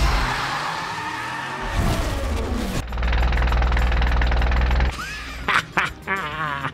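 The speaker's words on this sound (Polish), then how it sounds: "Tak brzmi zatarty silnik? Ale czad, nawet taki dźwięk zrobili, wow!" A seized car engine in the BeamNG driving game gives a harsh, droning grind with quacking, duck-like tones, breaking into sputtering chirps and stutters near the end, with no voices.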